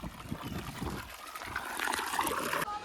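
Water overflowing and trickling from a container, a steady close splashing dribble with voices talking over it.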